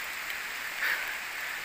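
Rain falls on a mountain trail while descending from the summit of Gunung Keramaian, a steady, even hiss of drops that holds at the same level throughout, with no voices.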